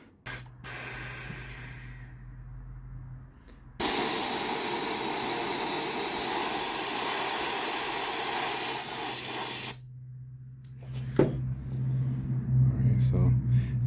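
A loud, steady hiss of a vacuum pump pulling a vacuum on a 2007 Mazda 3 2.3L cooling system runs for about six seconds, with quieter mechanical hum and faint noises before and after.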